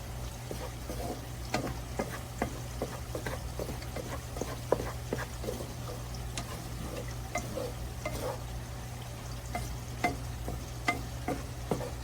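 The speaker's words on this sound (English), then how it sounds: "let this saute for 2 more minutes" Minced garlic sautéing in a pan for old-fashioned chili beans, a soft steady sizzle with frequent spoon scrapes and light clicks, close and quiet under a low background hum.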